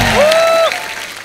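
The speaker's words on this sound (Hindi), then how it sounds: "इनके लिए जोरदार तालियां" Hindi TV comedy show studio audience claps briefly while a bright swooping musical sting plays over it, the clapping continuing faintly after the tone cuts off.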